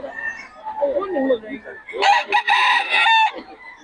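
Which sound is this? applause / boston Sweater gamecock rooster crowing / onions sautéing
boston Sweater gamecock rooster crowing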